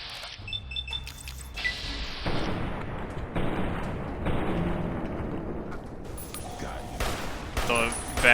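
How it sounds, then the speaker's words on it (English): Fallout: New Vegas gunfight, characters trading shots in a dense rumbling barrage of gunfire and impacts, loud and continuous, with a few beeps and interface tones over the top. "They're just shooting one another"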